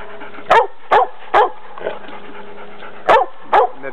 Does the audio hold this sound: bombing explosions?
no